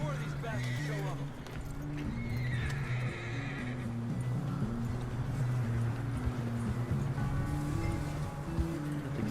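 A horse in Red Dead Redemption 2 neighs loudly and its hooves clip-clop against steady game music, while a voice talks over the top.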